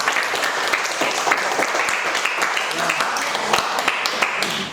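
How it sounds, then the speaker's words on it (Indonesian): Classroom applause for a student group after their presentation, brisk clapping from many hands with distinct sharp claps standing out, steady throughout with faint voices mixed in. "Kasih tepuk tangan buat kelompok."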